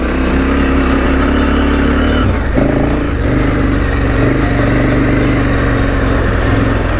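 A KTM 1290 Super Adventure R motorcycle ridden on a rough road in Peru, its engine a loud, steady, close drone with a brief shift in pitch partway through, heavy rumble throughout.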